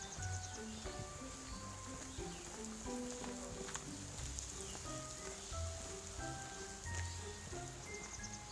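Soft, gentle rain pattering at a quiet mountain Buddhist temple, faint scattered drops over a low steady wash, with tonal chiming or birdlike notes drifting in the background and no talk.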